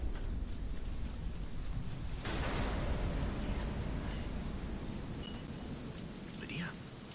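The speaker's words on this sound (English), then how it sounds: "Storm." A storm in the video game DeadLight brings steady heavy rain pouring down, with a deep rolling thunder surge swelling in partway through and fading back into the constant downpour.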